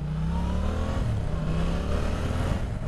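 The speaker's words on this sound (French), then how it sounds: "petite Porsche. Ah, elle accélère bien." A Porsche car engine revving and accelerating, a steady loud drone with rising pitch, close by and with no talking.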